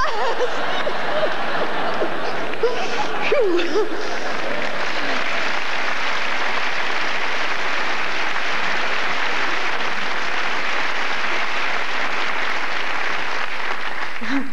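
Sustained audience applause fills a comedy club during a 1998 stand-up set, a dense, steady wash of many hands with a faint voice or laugh near the start, holding at full strength for about fifteen seconds.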